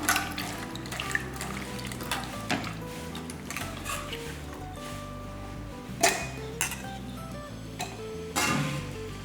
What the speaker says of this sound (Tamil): இப்போ வந்து அரை முடி அளவுக்கு தேங்காய் எடுத்துருக்கேன் இதை நல்லா கழுவிக்கலாம்